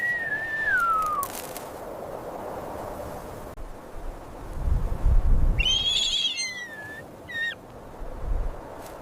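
Faint, high thin whistles of an emu chick calling out in dusty, windy open country, a few separate rising and falling notes with low wind rumble beneath.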